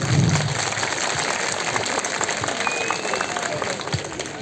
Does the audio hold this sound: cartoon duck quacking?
no